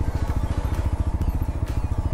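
A TVS Apache 160 4V motorcycle idles at low speed while being turned, its single-cylinder engine thumping in a fast, steady pulse up close.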